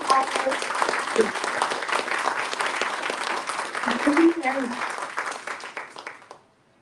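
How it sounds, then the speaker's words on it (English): An audience at an awards ceremony claps in a sustained, dense round of applause that carries on for several seconds before tapering off and fading to silence, with a few voices faintly audible beneath it. "if we could have just a wonderful round of applause for everybody involved"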